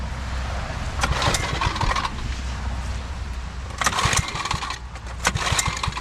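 Small engine revved as the throttle is rolled, rising in short, rough bursts over a low, uneven idle rumble.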